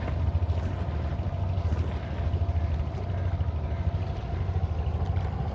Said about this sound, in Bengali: এই নৌকাটা দেওয়ার কারণে এই যে ঢেউ